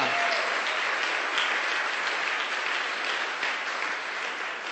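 Congregation applauding during a church worship service, a loud, continuous wash of many hands clapping together that fills the space evenly and fades only slightly toward the end.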